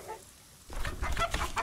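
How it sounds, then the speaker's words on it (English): Chickens clucking in the video game Lovecraft Country: Book of Hours, a brief series of short, close clucks following a moment of near silence. "I'll feed the chickens."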